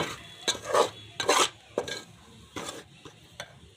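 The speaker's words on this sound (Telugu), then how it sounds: "ఇందులో వేసిన శనగపిండిని వేయించాలన్నమాట వేయించుకోవాలండి" Spoon scraping and stirring gram flour as it roasts in ghee in a pan for Mysore pak, a few separate bursts of scraping close by with quiet gaps between.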